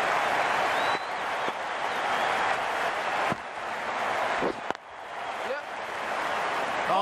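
Stadium crowd at an India vs Sri Lanka ODI cricket match cheering and applauding after a big hit, a dense, loud, continuous roar of claps and shouts that swells and dips with a brief sharp bang near the end.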